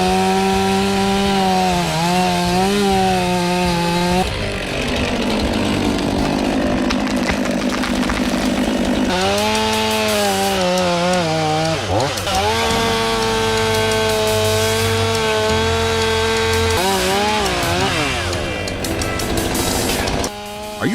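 Chainsaw cutting wood during stump pulling, a loud continuous whine that holds and shifts pitch as it revs, dropping briefly between cuts and then rising again, with no talking over it.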